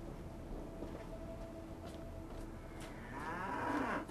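A cow in the video game Fallout 3 lets out a single long moo toward the end, loud and close over a steady low in-game ambience.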